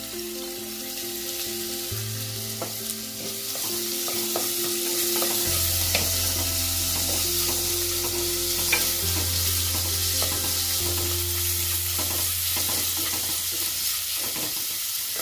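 Garlic cloves sizzle in a pan over already-softened onions for a goat blood curry. The frying hiss is continuous, with stirring clinks and scrapes over a steady low hum.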